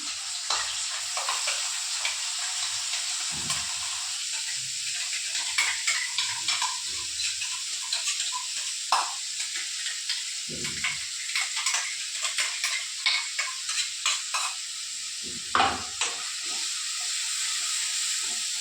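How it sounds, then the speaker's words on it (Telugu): Steady hiss and sizzle of prepared masala frying in a pan for a chicken curry, with scattered spoon scrapes and taps over the constant crackle, close and continuous. "ఇది ఫ్రై చేసుకోవాలి."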